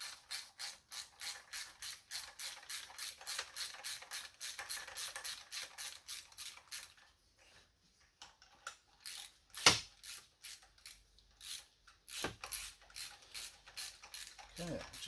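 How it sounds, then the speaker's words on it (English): A 3/8 ratchet with an extension and a 5/8 socket loosens the spark plugs on a Honda/Acura V6, making steady rhythmic clicking for several seconds. A pause follows, then scattered clicks and handling knocks, all close and with no talk. "And then we'll get our 3/8 ratchet with an extension and a 5/8 socket"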